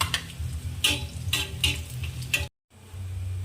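Garlic sautéing in hot oil for a green chilli fry, a close crackling sizzle with several sharp spatula taps and stirring scrapes, then a brief cut to silence before the sizzle resumes.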